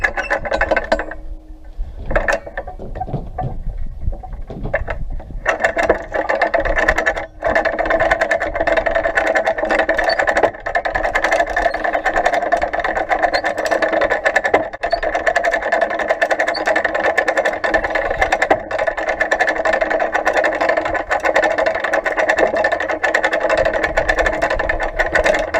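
Crane winch motor hauling up a tied load on a cable, a steady mechanical whirring drone that holds for over twenty seconds after a few seconds of quieter handling noise.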